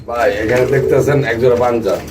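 Pigeons coo close by in low, throaty, rolling calls that continue with barely a pause.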